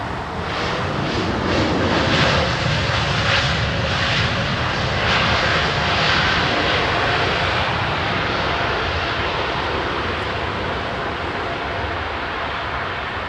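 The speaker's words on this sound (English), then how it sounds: "It's a 320 Neo, I think, yeah." An Airbus A320neo jet at Heathrow runway 27R produces a loud, continuous engine roar with a rushing, broadband texture that stays steady throughout, with some pulsing in the first few seconds.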